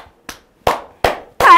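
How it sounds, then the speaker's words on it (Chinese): A few sharp hand claps ring out one at a time at uneven intervals, loud and close in a quiet room. "所以老师在这边呢，我要先给你一个大大的掌声。"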